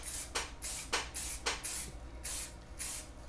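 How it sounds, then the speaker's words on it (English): Aerosol fixative sprayed in several short hissing bursts over a chalk car sketch, close and fairly loud, with brief pauses between blasts. "now, spray fix"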